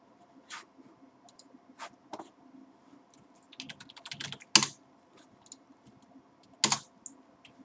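Computer keyboard typing while drafting in AutoCAD: scattered bursts of clicky keystrokes, a few quick single taps and denser short runs, close and fairly quiet over a low background hum.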